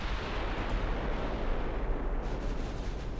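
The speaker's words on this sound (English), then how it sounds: "Battleship guns." Heavy naval gunfire from a battleship salvo in Ultimate Admiral Dreadnoughts, a dense continuous rumbling roar of big-gun blasts, loud and sustained with no clear separation between shots.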